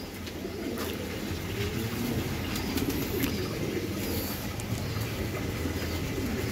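Racing Giribaz pigeons keep up a dense, steady cooing murmur from a flock, close and continuous, with a few faint chirps and clicks over the low drone.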